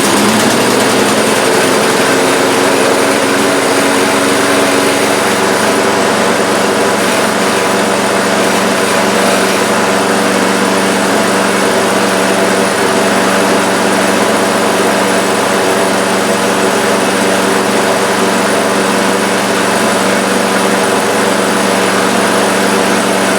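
A lawn mower engine runs steadily inside a garage after starting on the first pull, a loud, continuous buzzing drone that holds for over twenty seconds with no talk over it.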